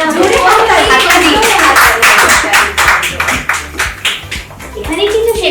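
Brisk hand clapping from a small crowd at a Bengali game show prize-giving, loud and close, with voices and someone talking over it before it fades out.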